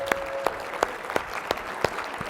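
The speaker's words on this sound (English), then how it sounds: "Let's give Garrett a huge round of applause." Scattered, fairly sparse clapping at a team meeting in honour of Garrett, a few distinct claps at a steady rhythm from what sounds like a small group.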